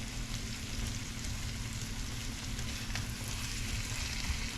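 Pepper shrimp sizzling and frying in a pan just after being flipped, a steady, soft crackling hiss that carries on evenly without pause.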